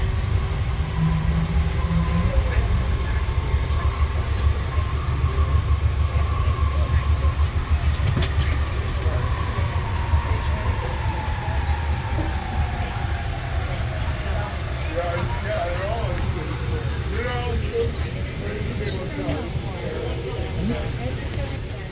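The JFK Airport AirTrain rumbles steadily along the track with a constant low roar and faint rhythmic clatter, while an announcement voice speaks over it.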